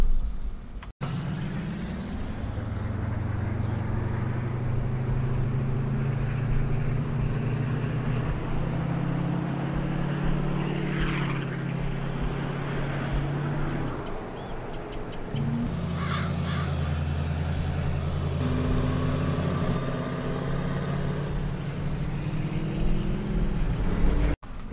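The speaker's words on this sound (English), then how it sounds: "Let's take it for a little drive." A work truck in Farming Simulator drives down a road on a top speed run, its engine droning low and steady up close, with pitch shifts as it accelerates and changes gear.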